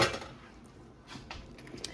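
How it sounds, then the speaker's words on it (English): A spoon scrapes and clinks against a cooking pot while seasonings are stirred into red beans and rice, a few soft metallic knocks and scrapes close by, fairly quiet. "And all my seasonings. And let me just stir everything around."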